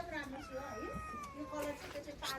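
A foreign-breed cat at a hill wellness resort gives a few close, drawn-out meows while a person talks quietly nearby.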